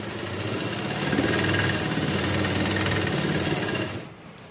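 A sewing machine stitches a kurti in a continuous, close, whirring run for about four seconds, then stops abruptly, leaving faint room noise.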